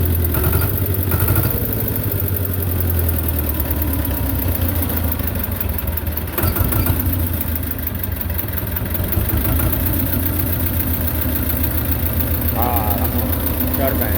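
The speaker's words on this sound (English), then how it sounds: "You can leave that at a kind of a low idle like this" Belarus 250 tractor engine running at low idle with a fuel delivery problem, a loud, steady, close rumble throughout with a brief knock partway through.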